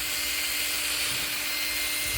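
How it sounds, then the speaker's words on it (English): A power drill bores a hole through a lamp part, a continuous close whine with a steady mechanical hum and no pauses. "so you got to drill another hole"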